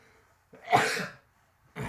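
A single sharp, breathy sneeze-like burst after taking dry snuff, followed after a pause by the start of a second one, close to the listener.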